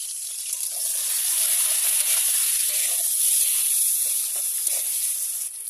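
Crabs fry in hot oil with ginger, salt and turmeric, giving a bright, hissing sizzle close by that swells and holds steady for several seconds with no speech.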